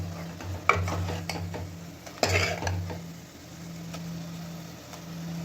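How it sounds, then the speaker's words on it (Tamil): A spoon stirs tomatoes, turmeric and sambar powder in a cooking pan, making a few sharp scrapes and clinks against the metal over a faint sizzle, with no talking. "நல்லா வதக்கிட்டு மஞ்சள் பொடி போட்டு கொஞ்சோண்டு சாம்பார் பொடி போட்டிருக்கேன்"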